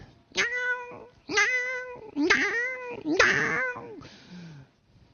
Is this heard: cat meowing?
yes